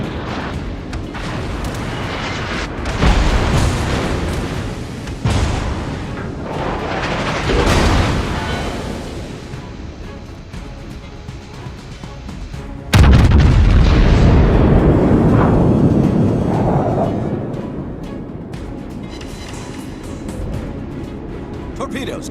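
Battleship main guns fire in World of Warships: heavy booming salvos roll out at intervals, several spaced blasts and one especially loud late report that decays slowly, while a voice talks over the action.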